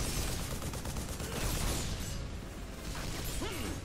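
Continuous rattling gunfire bursts in the video game Global Ops: Commando Libya, layered over a noisy game soundscape, with dense pops and a mechanical clatter throughout.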